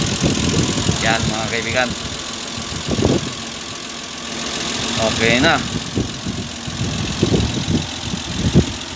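A Nissan Civilian bus's six-cylinder engine, freshly swapped in, idles with a steady low knocking rumble close by while someone talks over it.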